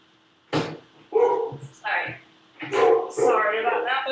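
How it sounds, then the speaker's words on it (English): A Labrador dog barks close by in a few short, sharp bursts, separated by brief pauses. "Barking Labrador."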